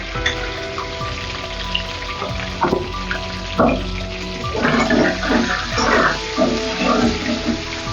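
Eggs fry in oil seasoned with salt and turmeric, a steady bubbling sizzle under bursts of stirring and spatula scraping, close to the pan, with a faint background hum throughout.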